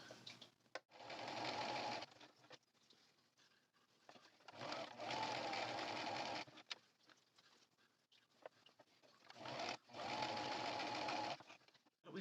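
A sewing machine stitches the bottom seam of a fabric drawstring bag in three close bursts of rapid, buzzing needle chatter, separated by quiet pauses with faint handling noise.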